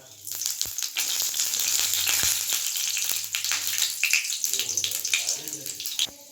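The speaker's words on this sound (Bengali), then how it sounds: "ভেজে রাখা বাঁধাকপির তেলের মধ্যে দিয়ে দেব পাঁচফোড়ন" Panch phoron spices dropped into hot oil left from frying cabbage, a loud continuous sizzle and crackle with sharp spits and pops, close up and without speech.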